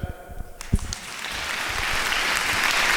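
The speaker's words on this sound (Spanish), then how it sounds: "Fuerte las palmas para el expositor" Applause for a speaker at a political conference, starting after a few scattered claps and knocks, then swelling into a dense, sustained ovation from a large audience that grows steadily louder.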